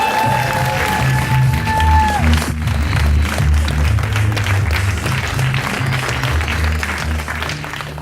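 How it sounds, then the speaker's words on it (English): Audience applause welcomes a finalist to the stage at a PSA Grand Final speaking contest, a dense continuous wash of clapping from a large crowd that carries on for the whole stretch. "our final finalist deserves your round of applause"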